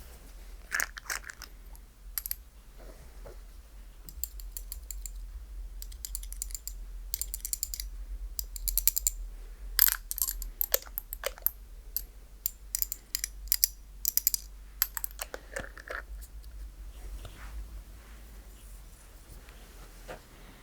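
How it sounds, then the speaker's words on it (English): A scratchy stimulation tool is worked with oil over skin during a chiropractic session, producing faint, close, intermittent scratching and clicking bursts in irregular clusters against a quiet background. "that with a bit of a scratchy stimulation tool, adding some of that oil in there"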